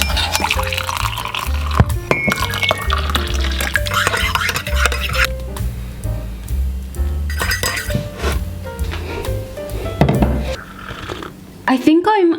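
A spoon clinks against a cup while hot chocolate powder is mixed with a little water, with repeated close metallic taps and liquid swirling and dripping, and some speech in between.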